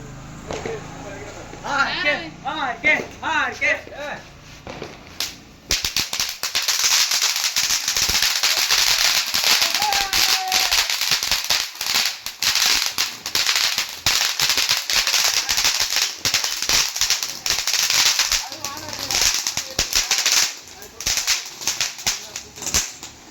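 Firecrackers for Diwali crackle and pop in a dense, loud burst that keeps going for many seconds, with a voice briefly heard beforehand.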